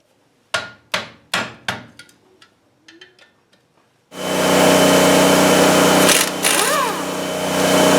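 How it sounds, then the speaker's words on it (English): A socket pounded onto the spindle nuts of a wrecker: six sharp hammer blows ring out in a steady rhythm, then a few softer taps, before a loud broadband engine or machine roar takes over. "hope we can pound a socket onto those nuts yet"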